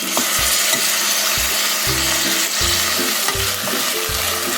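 Chopped tomatoes sizzling in a pan for goat mutton curry while a spoon scrapes and stirs in regular strokes, a loud, close, continuous frying hiss.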